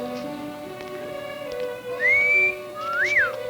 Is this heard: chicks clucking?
no